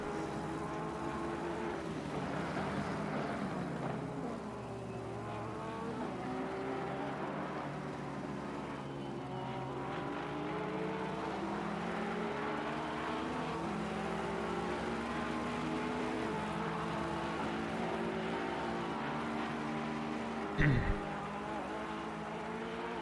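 GT3 race cars, an Aston Martin and a Porsche, in a sim racing championship: sustained engine drone with rising and falling revs over the whole stretch, one brief sharp bump near the end, and a commentator talking throughout.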